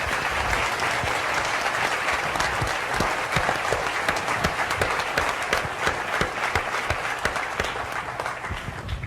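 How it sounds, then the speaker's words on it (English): A town hall audience gives sustained applause for police officers and first responders, many hands clapping steadily and loudly for the whole stretch, with a faint murmur of crowd underneath. "we should give a round of applause to all the police officers and most responders"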